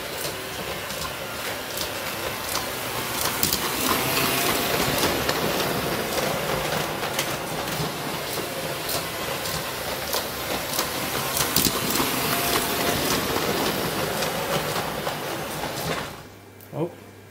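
A small LGB model locomotive hums and clicks steadily along its track, with a quiet voice talking briefly; the running noise cuts off near the end.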